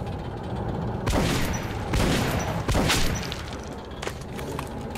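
Gunfire in the video game Metro: Last Light, several muffled booming shots in quick succession over a dense, noisy game background, each with a short echoing tail.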